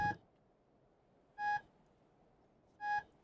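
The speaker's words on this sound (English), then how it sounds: "it's a requirement that their trucks have a white noise buzzer instead of a beep" A truck's reversing buzzer in the game Stormworks gives three short electronic beeps repeating at a slow, steady interval, each a clear tonal pulse separated by quiet gaps.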